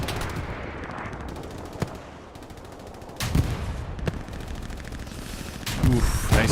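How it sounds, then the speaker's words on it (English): Rockets fired from a P-47 plane in the game Hell Let Loose, a series of sharp loud blasts and cracks over a continuous rumbling battle background, with a voice talking partway through. "Oof, nice rockets from a long distance there."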